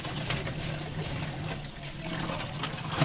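Katarua vegetables are being washed by hand in a vessel of water, producing steady sloshing and splashing close to the microphone, continuous and fairly loud with no talking.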